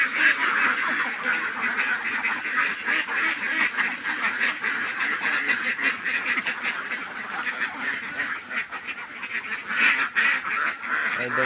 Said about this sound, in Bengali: অনেকগুলো হাঁস আছে এখানে।